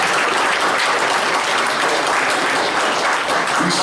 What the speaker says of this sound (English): I'd like to just give the Lord a great round of applause.